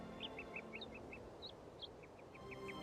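A bird in the Syberia video game sings a quick series of short, bright chirps and whistles over a faint, soft ambient background.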